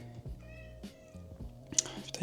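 A house cat meows near a home workout session, a short tonal cry standing out over steady room noise and some nearby talk.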